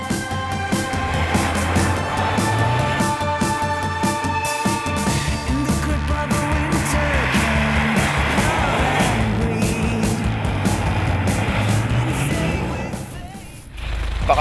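Mitsubishi Evo 9 lapping an ice circuit in Lapland, its engine droning steadily with shifting revs and harmonic whine throughout, close and continuous, fading briefly near the end.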